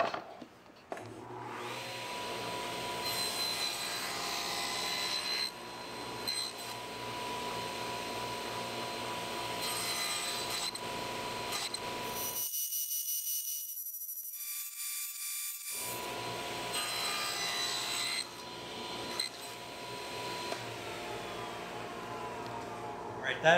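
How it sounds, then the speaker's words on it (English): Wood is cut with closely spaced kerfs for a large coffee table, a long steady saw roar that runs continuously, breaks off for a few seconds of silence, then resumes just as loud. "That is a lot of cutting"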